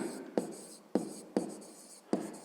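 Pen or pencil writing out a math equation on paper: four sharp tapping onsets, each followed by brief scratchy strokes, close and quiet with no talk.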